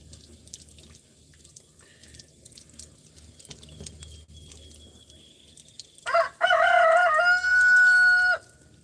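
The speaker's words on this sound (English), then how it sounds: "Them roosters sure got busy," A rooster crows loudly and close by, two long drawn-out calls back to back after a quiet stretch of faint dripping and low background noise.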